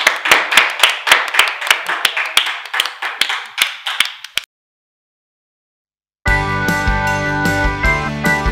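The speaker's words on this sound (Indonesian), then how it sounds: "sama-sama kasih tepuk tangan buat Tuhan" Rhythmic group clapping during an online children's church service, a steady run of sharp claps in even beat that stops abruptly, followed by silence and then music starting.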